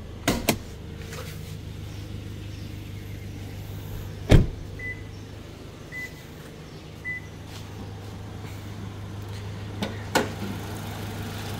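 A 2016 Toyota Land Cruiser Prado TX with a 2750cc engine idles in a steady, smooth low hum, broken by a few sharp clicks and one louder knock nearby.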